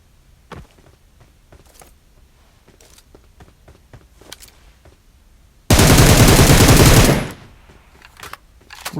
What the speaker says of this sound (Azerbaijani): Famasla buradan güllə səs gəldi axı.